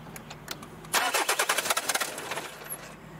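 A car engine fitted with regenerated Bosch injectors cranks in a quick series of rhythmic starter pulses after a quiet moment, then settles into a faint low running sound.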